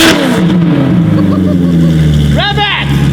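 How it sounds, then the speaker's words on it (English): A barn-find Ferrari F430 with straight-pipe exhaust idles loudly in a garage, its engine note drifting, then blips in a short sharp rev; voices are heard in the background. "Straight pipe F430 exhaust."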